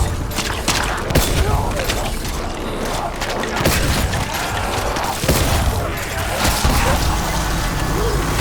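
Cannons fire in a video game as a string of sharp booms and cracks inside a dense, busy battle soundscape with rattling mechanisms.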